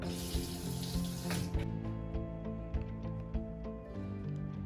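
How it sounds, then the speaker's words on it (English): A bathroom faucet runs into a sink after being switched on with a foot pedal, a steady splashing rush that drops to a softer trickle partway through. "this foot pedal to turn on the faucet"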